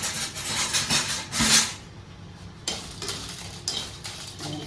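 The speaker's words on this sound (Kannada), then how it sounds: "ಮೊದಲು ಮೆಣಸನ್ನು ಫ್ರೈ ಮಾಡ್ತಾ ಇದ್ದೇನೆ" Chillies frying in a pan for Mangalorean prawn sukka: continuous close scraping and stirring with a light sizzle, a louder scrape burst early, then a brief lull before the stirring resumes.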